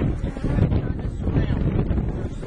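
Steady wind buffets the microphone with a low rumble during an outdoor beehive inspection, broadband and continuous with no clear breaks.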